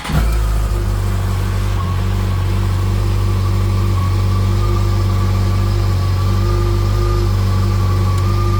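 A 2020 Yamaha FJR1300 ES motorcycle engine runs at a steady, loud idle close by, holding an even drone with a faint whine and no voices.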